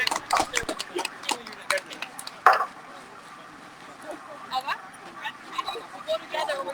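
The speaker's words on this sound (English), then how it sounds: "there goes the dog." Sled dogs yip and bark with whimpering at the North American Championship sled dog races, a busy outdoor mix where one sharp close bark stands out amid people talking and scattered crowd noise.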